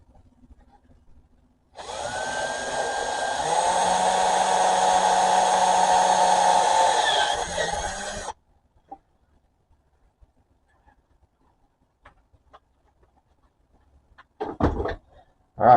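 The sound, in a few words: drilling holes with a power drill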